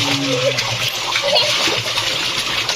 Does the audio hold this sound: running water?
yes